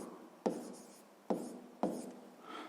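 Pen writing a table by hand on paper, three short sharp scratching strokes with quiet gaps between them, close and faint, with no voices.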